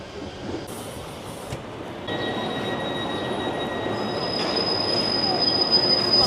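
A Voralpen Express train runs on rails between Basel and Lucerne with a steady close rumble, while a high metallic wheel squeal comes in about midway and grows sharper and louder toward the end.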